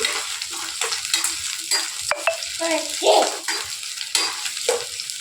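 Chopped coconut stirred and sautéing in a hot pan, with a soft steady sizzle and scraping strokes of a spatula, close by.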